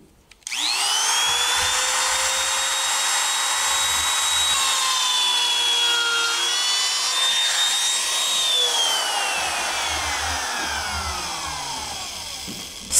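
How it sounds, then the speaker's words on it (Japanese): A handheld wood trimmer router cuts a wide groove in wood with repeated passes of the same bit, giving a loud, steady, high-pitched whine that shifts slightly in pitch before spinning down at the end. "詰めることによってこういうふうに幅の広い溝を掘ることもできます。"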